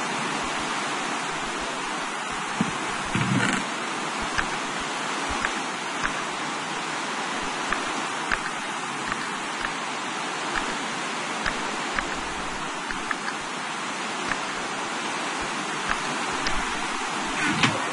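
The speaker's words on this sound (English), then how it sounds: "Oh, no, it's raining." Rain in the Minecraft video game hisses as a steady, even wash of noise, with faint scattered clicks and no talking.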